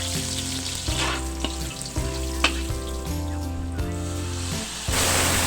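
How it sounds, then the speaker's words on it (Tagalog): Ginger sizzles steadily in a pan as it is stirred for chicken curry, a constant frying hiss with occasional scraping taps, all under background music. "haluin lang hanggang lumabas yung bango aroma ng luya"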